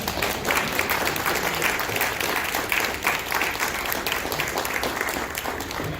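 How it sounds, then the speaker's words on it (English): A standing crowd at a country club gold company event gives a warm round of applause welcoming a speaker, dense sustained clapping with some crowd noise, steady and fairly loud throughout. "I'm going to ask you to stand to your feet and give him a warm round of applause"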